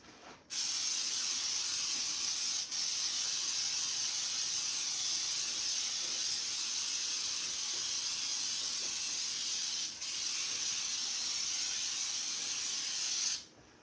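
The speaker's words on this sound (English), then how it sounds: "Now I'm gonna spray." A can of Baker's Joy flour baking spray hisses in one long, steady burst, close and loud, with two brief dips mid-spray before it stops.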